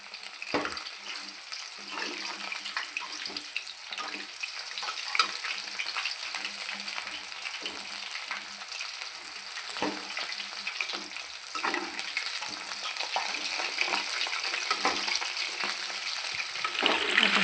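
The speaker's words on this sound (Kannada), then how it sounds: "ಕಬಾಬ್ ಬೇಯಿಸಿ ಮತ್ತೆ ಕೊಡ್ತಾನೆ" Kebab fries in a pan with a continuous crackling sizzle, moderately loud and close, with small pops scattered throughout and no voices.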